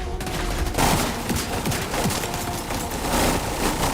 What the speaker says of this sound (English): I don't know if this Super 90 is strong enough to do it,